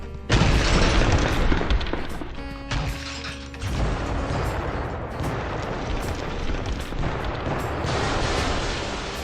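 Missile blasts in the CitySmash city-destruction game: heavy booming explosions, one sharp onset then sustained rumbling crashes and debris noise, loud and continuous with little talk.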